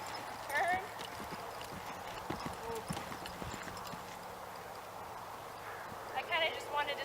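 A horse's hooves lope in a rhythmic clip-clop across an arena, a trainer's voice talking over the steady footfalls.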